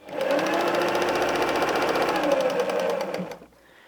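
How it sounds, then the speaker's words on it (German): A domestic sewing machine runs in one steady, continuous stretch, sewing a seam in fabric at presser-foot width for a patchwork drawstring bag, its motor whirring evenly with a rapid needle clatter before stopping abruptly near the end. "Und wir nähen das einmal ab."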